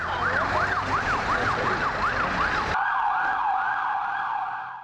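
A Corpo de Bombeiros fire brigade vehicle in São Paulo sounds a wailing siren that sweeps up and down rapidly, then shifts to a slower cycling wail, loud and close throughout.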